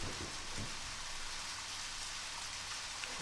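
Steady rainfall in the video game Deadly Premonition, a dense constant hiss of falling rain, close and even throughout with no voices.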